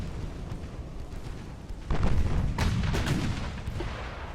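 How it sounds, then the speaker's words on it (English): Battleship guns firing at a heavy cruiser in the naval warfare game Ultimate Admiral: Dreadnoughts, with a low rumbling barrage and several heavy booms rolling out over continuous battle noise. "I think we're engaging the heavy cruiser with the battleships, which is awesome."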